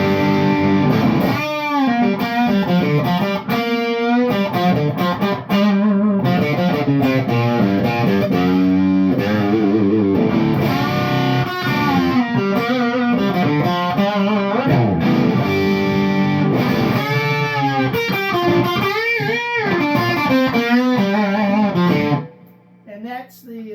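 Electric guitar played through an amplifier with distortion, a continuous stream of gritty sustained chords and runs filling the passage, loud and close, before cutting off near the end.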